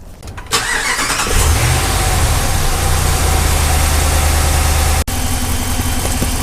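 A 2009–2018 RAM 1500 pickup engine cranks briefly and catches, then settles into a steady, loud idle with a low rumble after a coolant flush, running on alone without talk apart from a momentary dropout near the end.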